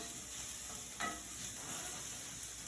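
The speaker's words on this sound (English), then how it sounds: "these onions are looking nice and soft, getting a little tiny bit brown" Onions cooking soft and just browning in a pan, a faint, steady low sizzle with a brief stir partway through.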